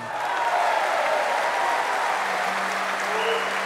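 Audience applause during a political speech at a gathering in Sainte-Marie, a steady dense wash of clapping throughout with some voices mixed in.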